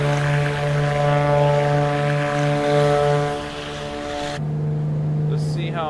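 Steady drone of a BlackSquare Duke twin propeller aircraft in flight in a flight simulator game, a loud continuous engine hum that shifts slightly in tone partway through, with no talking.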